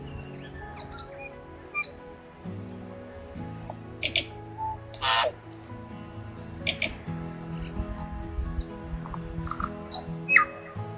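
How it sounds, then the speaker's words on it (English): Tui birds sing in scattered, bright chirps and whistles over a low steady hum, with a few sharper calls standing out. "you can already hear all the birds in the background. They sound really cool. I think they're called tuis"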